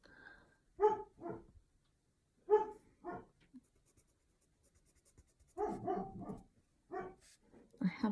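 Freckle the dog barks in short bursts from another room, distant and fairly faint, with quiet scratching of coloured pencil on paper in the foreground.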